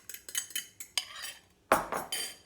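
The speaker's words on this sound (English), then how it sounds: "More mixing by hand." Meatball mixture for Italian meatballs, with eggs worked in, being mixed by hand in a bowl: a close run of wet, squelching squishes in irregular bursts, with no voices.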